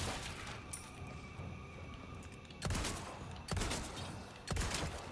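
Gunshots in the game Resident Evil 4 Remake, three loud broadband blasts spaced about a second apart, each cutting sharply over a continuous background of game noise.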